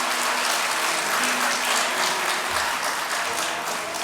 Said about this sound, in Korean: 우리 큰 박수로 감사의 마음을 전하겠습니다